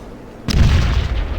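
A grenade explodes in Fallout Tactics, a sudden loud, deep boom after a short quiet lead-in, followed by a rumbling, crackling decay that lasts about a second.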